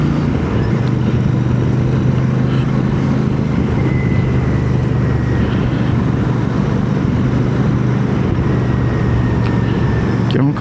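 A Royal Enfield Super Meteor 650 motorcycle rides through cool, cloudy São Paulo traffic, its engine a steady low drone mixed with wind rush and distant road noise, close and constant with no speech.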